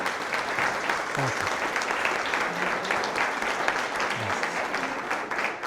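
An audience at a book presentation claps steadily, a dense even patter of hands that holds at moderate volume throughout, with faint voices mixed underneath.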